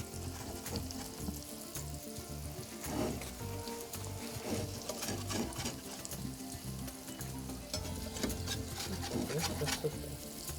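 Country-style potatoes with garlic fry and sizzle steadily in a heavy pan while being stirred, with soft scraping and shuffling bursts over the constant hiss, heard close up.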